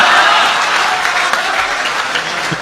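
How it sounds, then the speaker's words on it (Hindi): Enthusiastic applause from an audience at an Urdu mushaira honouring a Deobandi poet, a dense burst of clapping that starts loud and slowly thins out over a few seconds. "जोरदार तालियां एक बार जहाज देवबंदी साहब के लिए"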